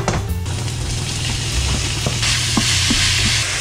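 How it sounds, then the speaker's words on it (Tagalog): Chopped onion sautés in hot olive oil in a home kitchen, giving a loud, steady sizzle broken by a few sharp clicks of a utensil stirring the pan. "Igisa na natin ang sibuyas."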